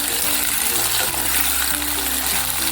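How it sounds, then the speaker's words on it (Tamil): Eggplant sautéing in a pan for a kathirikkai puli kuzhambu, giving a soft, steady sizzle with faint stirring, close and continuous with no talk. "இது கொஞ்சம் நேரம் வதங்கட்டும்."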